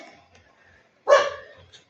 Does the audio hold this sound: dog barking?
yes